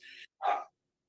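A dog barks twice at moderate distance during a video call, a short high yap followed by a fuller, louder bark, then silence.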